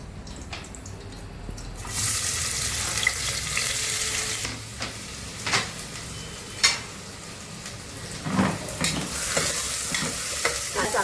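Onion dropped into hot oil bursts into loud sizzling partway through, followed by steady frying with scraping stirs, close up.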